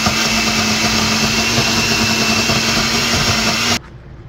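A blender grinds dried loitta fish for a shutki bharta, a loud, steady motor whir that cuts off abruptly near the end, leaving quiet.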